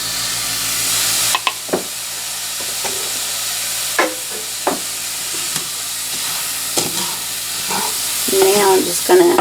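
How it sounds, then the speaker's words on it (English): Onions and garlic hitting hot browning rice for Mexican rice, producing a loud hissing sizzle with intermittent metallic scrapes and knocks of stirring and a burst of bubbling toward the end. "So now is when I want to go ahead and put in some onions and garlic."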